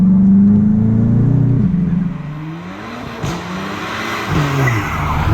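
A Volkswagen Golf GTI Performance Package, a front-wheel-drive car, is driven hard, its engine droning loudly and close as the revs rise and fall with gear changes.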